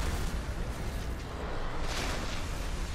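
Explosions rumble in the shooter video game Gears of War 3, forming a dense, continuous wall of blast noise at moderate loudness with no voices.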